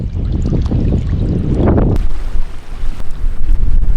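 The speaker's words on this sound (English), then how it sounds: "Bit windy, but we've come to Little Salmon Bay." Strong gusty wind buffets the microphone at Little Salmon Bay on Rottnest Island, Western Australia, a loud continuous roar with heavy low rumble that eases briefly then keeps gusting, with faint waves beneath.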